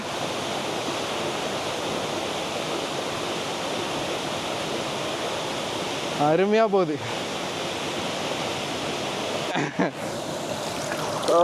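A waterfall in Kurangani, Tamil Nadu roars in a steady, broad wash of rushing water. Someone speaks briefly over it and another voice rises near the end.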